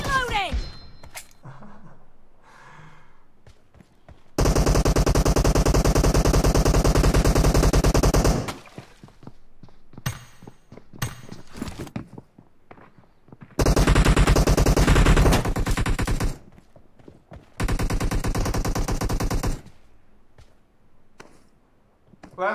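PUBG Mobile team deathmatch gunfire: several long, loud bursts of automatic fire separated by quieter gaps with scattered single shots and game sounds.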